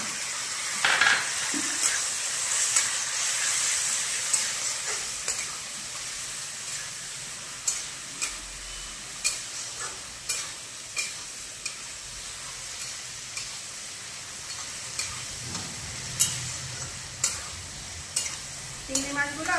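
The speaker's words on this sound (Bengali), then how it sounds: "চিংড়ি মাছগুলো আমার হালকা করে ভাজা হয়ে গিয়েছে।" Prawns coated with salt and turmeric fry lightly in a pan, with a steady sizzle broken by repeated sharp clinks and scrapes of stirring, close and alone without talk.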